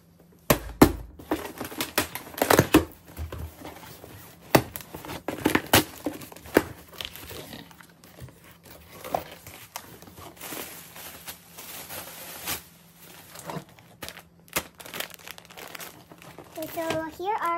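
A delivered package is unwrapped and opened, with loud bursts of crinkling plastic and paper, tearing and rustling handling noises in irregular clusters, near and prominent, while a person talks intermittently throughout.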